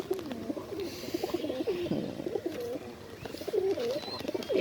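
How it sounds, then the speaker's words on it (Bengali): Meherpur Giribaz pigeons coo softly and repeatedly in a loft, several birds overlapping in low, throaty calls with a faint chirp or two in the background. "এটি একটি মেহেরপুরের গিরিবাজ কবুতর"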